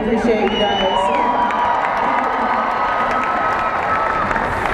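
Australian Open tennis crowd cheering and shouting continuously at close range, a lively mix of voices and whoops with no clear talk on top.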